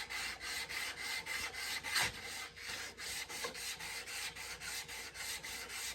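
Rhythmic back-and-forth rasping of a steel chisel rubbed on an abrasive sanding surface, about two strokes per second, steady and close, with no talking.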